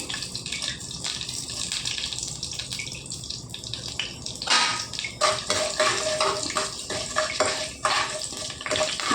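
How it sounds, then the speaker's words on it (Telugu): Urad dal frying in oil in a pan for gongura chutney, a steady crackling sizzle with some stirring, fairly loud and close and without speech. "మినపప్పు కొద్దిగా వేగాలండి చూడండి మినపప్పు కొద్దిగా వేగాయండి"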